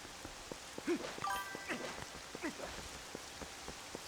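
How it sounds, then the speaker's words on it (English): Light rain patters steadily in the Zelda: Twilight Princess HD game world, a soft continuous hiss with scattered drops, broken by a few brief chiming tones from the game. "Oh wait, it's raining."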